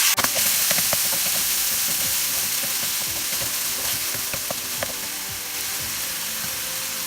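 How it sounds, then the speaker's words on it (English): Onion fries in a pan over medium heat with bay leaves, red chili and whole spices for Bengali egg curry, giving a loud continuous sizzle broken by repeated stirring scrapes; no voices. "Fry the onion on medium heat until it's not getting golden brown."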